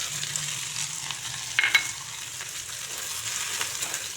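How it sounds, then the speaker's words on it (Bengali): Chopped onions frying in hot oil with whole cumin seeds for aloo dum, a steady close sizzle with a couple of quick spatula scrapes near the middle. "তারপরে এতে দেখুন এই পেঁয়াজ কুচি দিয়ে দিচ্ছি।"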